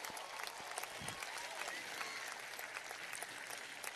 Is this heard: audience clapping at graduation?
yes